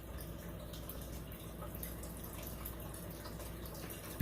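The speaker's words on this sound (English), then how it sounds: "People like the sound of the water running." Water running steadily in the background, a soft continuous trickle and drip like a tap left on, fairly faint and unbroken for several seconds, with no talking.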